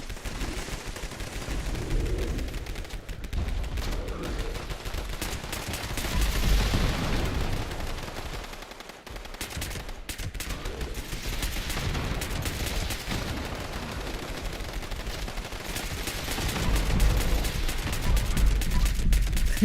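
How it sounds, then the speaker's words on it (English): Camp turrets firing in the Fallout 76 video game, a dense ongoing clatter of rapid gunfire with bursts and booms rising and falling across the clip, with brief faint talk. "if I'm by myself on my private server, I can turn the turrets on"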